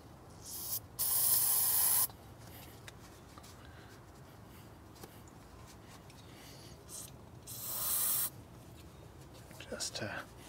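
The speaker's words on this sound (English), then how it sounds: "There's a little bit of rust or something in here, so I'm going to hit it with some brake clean here." Brake cleaner sprayed onto a rusty brake bracket during a big brake kit install on a Subaru WRX race car, two short close hissing bursts, quiet workshop around them and faint rattling afterward.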